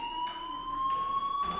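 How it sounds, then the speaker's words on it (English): Fire alarm from the video game Life is Strange Remastered: a sustained electronic tone, loud and unbroken, with faint softer bursts layered in at intervals and no voices. "Hey, do you hear that fire alarm?"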